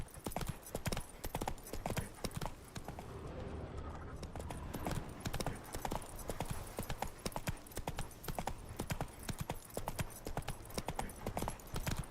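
Roach the horse trots in The Witcher 3, a fast, steady run of clip-clop hoofbeats throughout, fairly close and crisp, with a short softer lull midway.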